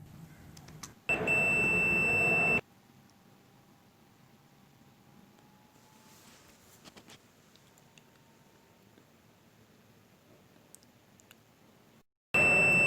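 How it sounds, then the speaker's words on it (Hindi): A cable tester checks a CCTV camera cable and gives two loud, sustained electronic beeps, one early and one at the very end. Faint hiss and small clicks fill the quiet gap between them. "इसमें अगर बीप का आवाज़ बजेगा तो ये सही होगा।"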